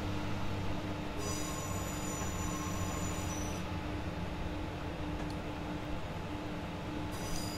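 A snowy-day passenger train run from Northampton toward Crewe in the Train Simulator 2019 game plays as a constant rumble of a running train, with wheel squeal rising and fading, steady and loud with no voices.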